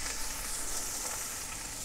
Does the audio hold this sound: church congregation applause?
no